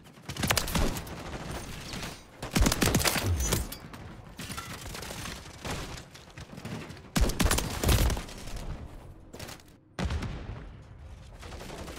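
Repeated Haymaker shotgun blasts in Modern Warfare III multiplayer, a rapid series of loud, booming shots in bursts with mechanical clacks between them, close and forceful.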